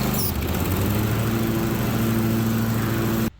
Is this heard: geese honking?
no